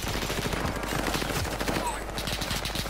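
Rapid gunfire in Call of Duty Warzone Pacific, a dense clatter of overlapping shots from a PPSh-41 and other weapons, loud and continuous throughout a short burst of rooftop combat.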